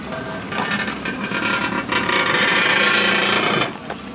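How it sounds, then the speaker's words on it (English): An aging ATM cash machine at a cupcake shop in Disney Springs whirs and grinds mechanically with clicking, ratcheting bursts, loud and close, continuing steadily throughout. "They've even got their own ATM machine, and judging by the noises it's making, it's definitely seen better days."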